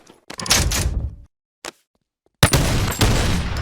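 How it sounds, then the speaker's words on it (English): Super shotgun blasts in the VR game Boneworks, two loud, sharp bursts with decaying tails separated by near silence and a brief mechanical clack between them; no speech. "this is the super shotgun"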